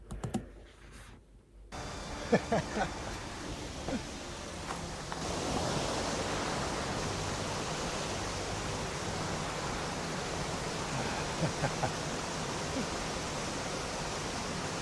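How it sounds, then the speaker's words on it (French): Steady broadband rush of a waterfall in Kabylie, Algeria, building after a brief quiet start into a continuous loud roar with a few sharp clicks and knocks on top. "Il y avait donc vraiment une cascade."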